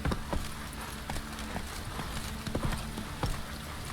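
Roach, the horse in The Witcher 3, gallops along in a steady rapid clip-clop of hooves over a dense, constant game soundscape.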